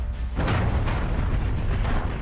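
A Ukrainian drone attack on Russian territory sets off explosions, heard as deep, rumbling booms that roll together in a continuous loud barrage.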